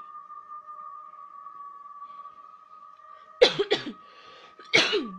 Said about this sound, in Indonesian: Alah, batuk.